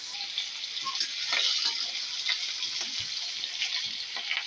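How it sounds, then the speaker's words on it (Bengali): Dried fish fries in a pan, a continuous bright sizzling hiss that holds steady and close throughout, with occasional small crackles and stirring sounds. "তারপরে শুটকি মাছটা ভাজা তুলে নেব প্রথমে"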